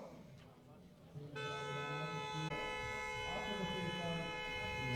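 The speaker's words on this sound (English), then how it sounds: "So you can hear the sirens" Race start sirens sound at Bikernieki racetrack in Riga, Latvia, during a Baltic Touring Car Championship round: a steady, loud, sustained tone cuts in about a second in and holds without a break over a busy outdoor background.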